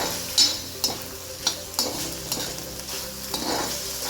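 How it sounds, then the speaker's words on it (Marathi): Tomatoes tipped into a hot pan of onions, cumin and ginger-garlic paste for paneer bhurji, stirred with repeated scraping clatters over a steady sizzle of frying, close and moderately loud. "आता त्यात मी टोमॅटो टाकत आहे."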